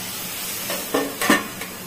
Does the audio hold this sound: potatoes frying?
yes